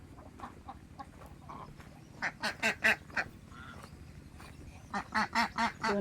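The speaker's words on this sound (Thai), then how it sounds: "ห่านขึ้นไปกินข้าวแล้ว" Geese honk as they head up to eat after a storm, with repeated loud, nasal calls in quick bursts over a low rumble of background noise.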